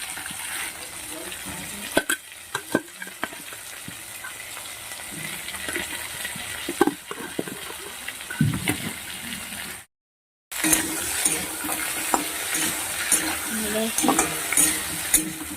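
Pointed gourd and potato with green chillies sizzle in a pan while a spatula stirs and scrapes them. Steady frying hiss sits under frequent utensil clinks and knocks, with a brief silent gap partway through.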